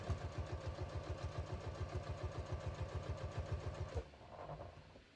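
Close and steady, a sewing machine stitches right along a fabric edge in an even, rapid rhythmic hum for about four seconds before stopping, followed by quiet handling noise.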